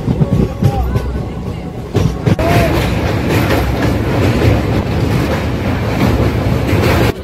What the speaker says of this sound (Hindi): दोस्तों अब हमारी ट्रेन धमारा घाट रेलवे स्टेशन पहुंच रही है।